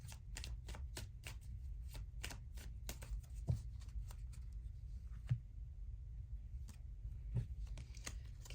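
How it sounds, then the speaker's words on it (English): Chakra Love oracle cards being shuffled by hand, a steady run of crisp riffling flicks over a low room hum, with a few soft thumps as cards are drawn and set down. "Let's get you a few cards from the Chakra Love cards."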